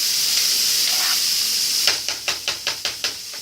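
A lentil, mushroom and walnut filling sizzles in a frying pan with a steady close hiss, then a run of about seven rhythmic scraping stirs cuts through near the end.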